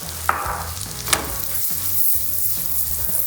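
Peppers sizzle and crackle steadily in a pan of melted whole butter for an egg and potato hash, with a couple of sharp clatters of a utensil against the pan up close.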